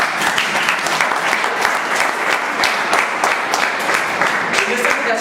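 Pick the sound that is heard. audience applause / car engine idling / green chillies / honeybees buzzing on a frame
audience applause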